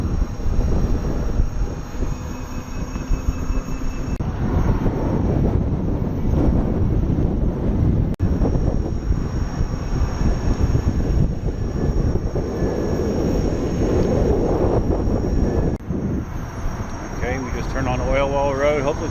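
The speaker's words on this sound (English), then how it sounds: "Got a lot of wind going on right now." Strong wind buffets the microphone while riding a KingSong 18XL electric unicycle alongside a Dualtron scooter in a headwind, a loud continuous low roar with brief voices and a whining tone near the end.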